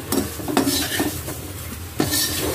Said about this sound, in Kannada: ಇವಾಗ ಇದನ್ನು ಚೆನ್ನಾಗಿ ಫ್ರೈ ಮಾಡ್ಕೊಳ್ಳೋಣ ನಾವು